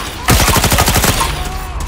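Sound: gunfire in a battle in the video game Fallout 4

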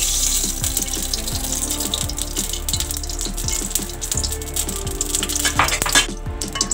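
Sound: oil heating and sizzling in a kadhai

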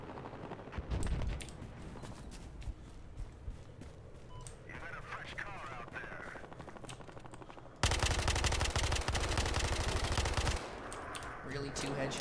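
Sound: gunfire in video game Battlefield Hardline

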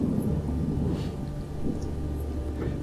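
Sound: rain and thunder in the video game Witch Hunt

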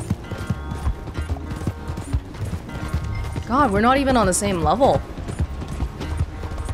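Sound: horse hooves galloping, from video game Red Dead Redemption 2

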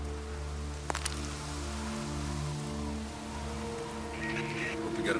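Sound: rain in the video game Days Gone

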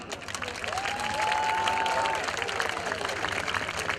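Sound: stadium crowd applauding at American football game

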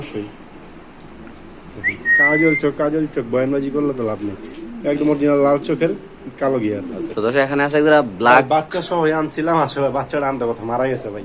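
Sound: pigeons cooing at a pigeon market

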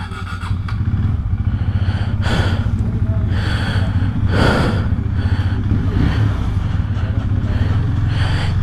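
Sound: KTM Duke 390 motorcycle engine starting

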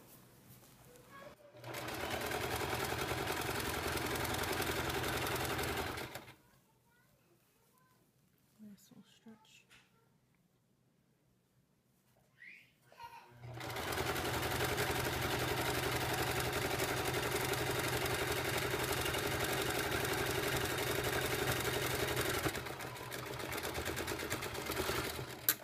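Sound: sewing machine stitching towel pants, zigzag stitch

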